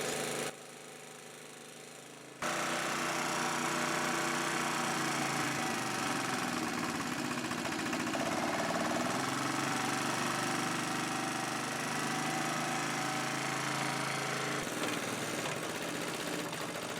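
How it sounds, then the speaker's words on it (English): A small engine runs steadily on gas from a gasifier while a fan blows the gas into it, giving a loud, continuous mechanical drone with a rapid knocking pulse, close by and with no talk. "Here you can see my gasifier running a flame and the engine."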